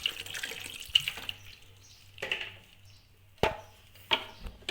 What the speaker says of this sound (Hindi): थोड़ा पानी इसमें शामिल करेंगे।